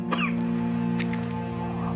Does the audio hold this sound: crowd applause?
no